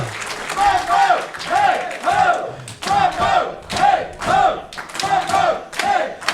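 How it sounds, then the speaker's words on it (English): Indoor independent wrestling crowd chanting a rhythmic war cry in unison, repeated bursts of loud massed voices roughly every second with thuds between. "As you hear the war cry of the Defend Indy Wrestling faithful here"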